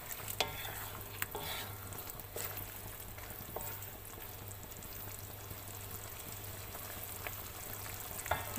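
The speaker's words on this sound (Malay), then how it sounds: "masukkan udang dan kacang bendi tadi ya." Shrimp and okra stirred in a pan for curry, a quiet, close sizzle with scattered scraping clicks of the utensil, no talk.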